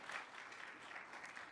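A brief burst of clapping from a political leadership debate audience, steady and even, with no voices over it.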